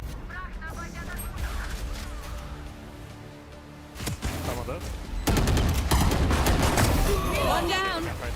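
Gunfire in a professional Valorant match between TL and TH, with repeated shots and crackling volleys rising to a denser, louder stretch near the end, heard under an excited commentator's voice.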